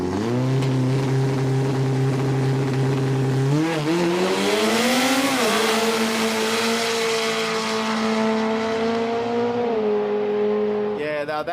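Quick Street drag race cars, Nana against a GTI, run down the strip with a loud, sustained engine roar that climbs in pitch through several gear changes before cutting off sharply at the end.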